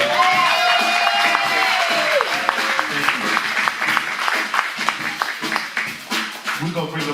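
An audience at a jazz club claps in a rising wave of applause and scattered cheers, building from a thinner start into a dense, steady patter, with a voice over the top at first.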